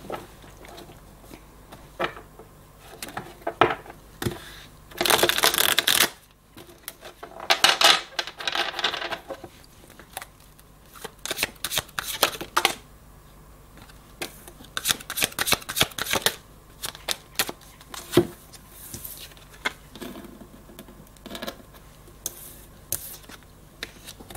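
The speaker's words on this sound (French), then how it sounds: "On va faire quelques cartes de conseil de Michael." Oracle advice cards are shuffled by hand in several bursts of riffling and flicking, with quieter pauses between the card handling and no talking.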